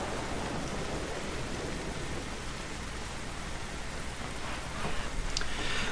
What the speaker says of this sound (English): I would anticipate that this rain is just not going to stop